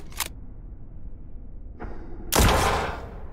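Gunshots from the space combat game Spacebourne 2: a sharp crack, then a short pause, a second fainter report, and a louder heavier shot with a brief decaying tail, all without speech.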